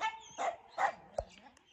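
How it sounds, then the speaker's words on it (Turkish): Kangal dogs bark in a few short, close barks spaced apart, with some whimpering tones between them. "Bak hala havlıyorlar."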